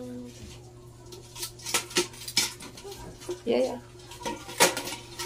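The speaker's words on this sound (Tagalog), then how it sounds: "Kada lagay takip sa kaserola" A lid is set on a cooking pot in a home kitchen: several scattered metallic clanks and clatters of cookware, near and fairly loud, with people talking throughout.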